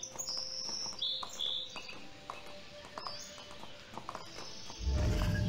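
In the video game Animallica, a horse comes running up over a quiet outdoor soundscape of chirping insects and birds, faint hoofbeats building to a louder approach at the end.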